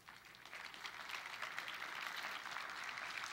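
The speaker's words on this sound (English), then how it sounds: "Let's give them a round of applause." Steady audience applause at an International Carwash Association awards event, a dense wash of many hands clapping at moderate distance, fairly quiet but holding even throughout with no voices on top.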